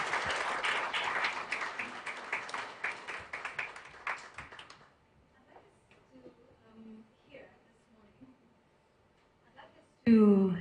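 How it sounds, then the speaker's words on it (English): Applause from an audience at a corporate sustainability event fills the first half, dense clapping fading out, followed by near silence with faint sounds and a sudden loud burst at the end. "To give a warm round of applause once again"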